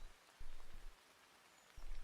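Rain falls in a forest as a soft, steady hiss of drops, faint and distant, broken by a few dull low thumps.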